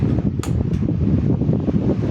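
Electric fan running on its third speed setting, giving a steady, loud whooshing drone of moving air with a low motor rumble and a couple of faint clicks early on.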